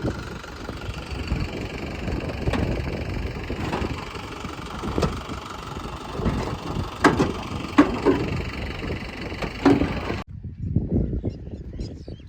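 Rough, chugging engine of a new 855 tractor running steadily in fields with knocking pulses and occasional clanks, then cutting off abruptly near the end, leaving a quieter low rumble.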